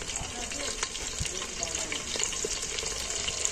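Steady, close sizzle of potatoes with salt and turmeric frying in hot mustard oil, a continuous crackling hiss with occasional light clinks, no voices.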